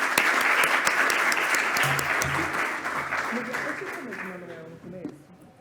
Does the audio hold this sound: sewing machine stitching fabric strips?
no